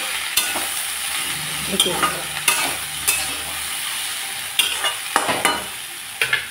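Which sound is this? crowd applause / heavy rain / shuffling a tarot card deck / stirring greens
stirring greens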